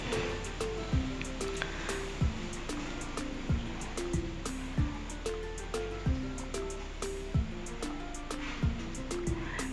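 Tomato pickle frying in a pan over low heat while being stirred, giving a steady hissing sizzle with regular scraping and clinking strokes, with no talk.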